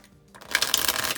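A deck of playing cards is shuffled in a quick riffle, a short burst of rapid crisp flutters after a moment of quiet.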